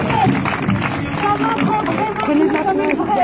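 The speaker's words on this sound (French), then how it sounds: "Est-ce qu'on peut les applaudir," Crowd at a dancers' mobilisation in Lille applauding acoustic musicians, steady dense clapping blended with crowd chatter and talk.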